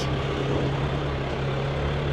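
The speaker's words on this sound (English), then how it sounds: "this truck is making some interesting sounds" Steady low rumble of a truck engine, continuous and fairly loud, with a droning hum throughout.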